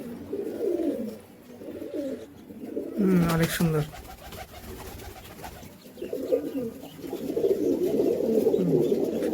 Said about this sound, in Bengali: সেটা হচ্ছে নীলা কবুতর